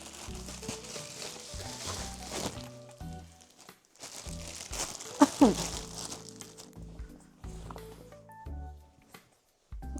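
A delivered parcel holding a jacket being opened at home, with bursts of crinkling, rustling plastic packaging and a few sharp tearing crackles, close up, between quiet gaps and soft background sounds.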